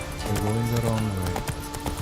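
Horse hooves clip-clop in a steady trotting rhythm inside a video game while someone talks over them, with a low animal snort or whinny partway through.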